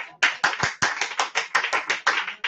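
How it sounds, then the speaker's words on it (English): A church congregation claps hands in praise, a brisk, even run of loud, sharp claps filling the room with no talking. "Now, you can clap your hands and give God a praise right there."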